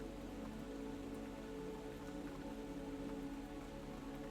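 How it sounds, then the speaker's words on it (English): Steady rain falls at night outside a pottery studio, an even, continuous hiss of drops on surfaces at a soft, constant level with no voices or other sounds. "the soothing sound of rain"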